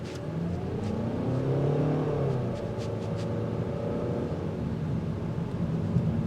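A 2025 Kia K4 with 191 horsepower accelerates on the road, its engine note climbing steadily in pitch over a constant tire and road rumble heard from inside the cabin, with no talking.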